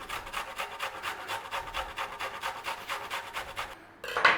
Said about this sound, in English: Ginger, we are grating the ginger.